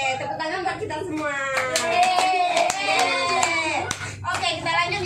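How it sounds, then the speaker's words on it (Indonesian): A primary school class claps hands together in a classroom, a brief burst of clapping mixed with excited children's voices and a teacher talking over it. "Oke, tepuk tangan buat kita semua."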